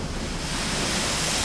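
Rough Southern Ocean seas heard from an exposed vessel on the way to Antarctica, with a continuous loud roar of breaking waves and buffeting wind noise on the microphone.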